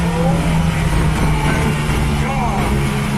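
SSC Tuatara, an American hypercar, heard as a loud, steady engine roar throughout, with a droning low hum and no clear gear shifts or pass-by.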